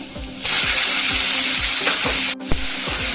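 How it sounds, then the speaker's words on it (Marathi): Onion, ginger and bay leaf hitting hot oil for a dhaba-style whole masoor curry, a loud sudden sizzle that continues steadily under repeated rhythmic spatula scrapes, with no one talking. "तेल टाकलं की आपण तवालपत्र घालायचं आलं घालूया कांदा"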